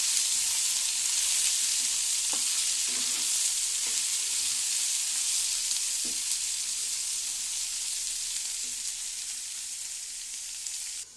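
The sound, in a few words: ivy gourd pieces frying in tempering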